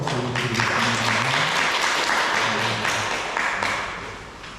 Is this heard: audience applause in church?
yes